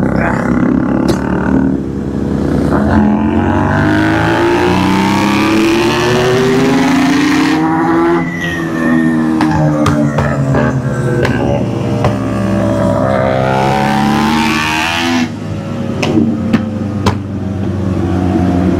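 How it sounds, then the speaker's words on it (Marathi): A motorcycle with an open, unmuffled exhaust revs hard with rising and falling engine roars, punctuated by sharp backfire pops, loud and close throughout. "बॅक फायर आवाज पण भारी आहे आणि फायर पण दिसतोय, फ्लेम निघतोय"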